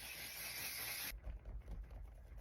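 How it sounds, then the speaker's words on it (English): Anastasia Impeccable Setting Spray gives one soft, fine-mist hiss lasting about a second, close and fairly quiet, then stops into faint room noise. "Anastasia Impeccable Setting Spray."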